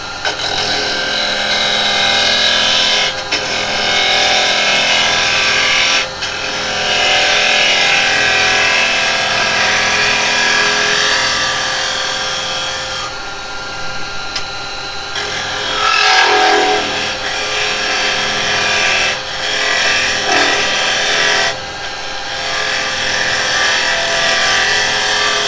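A wood lathe spins a blank as a turning tool cuts shavings, giving a loud, continuous scraping rasp with brief dips where the tool lifts off and bites again.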